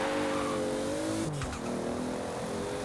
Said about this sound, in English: The Toyota Celica ST185 is a good car.